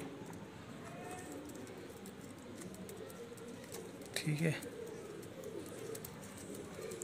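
Fancy high-flying pigeons coo softly in a loft, a short throaty burst standing out midway, under a voice speaking briefly against steady background noise.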